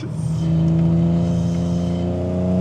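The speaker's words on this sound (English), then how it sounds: "a car that has a rowdier exhaust and a noisier intake, so everything that you're hearing is all mechanical" A BMW E46 330Ci engine and aftermarket exhaust drone steadily at a close distance, with a deep, throaty hum and a slight rise in pitch, no voices.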